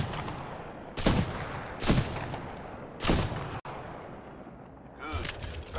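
Gunfire rings out on the firing range in Titanfall 2, with three sharp, loud shots spaced about a second apart, followed by a quieter lull and then a further burst of activity.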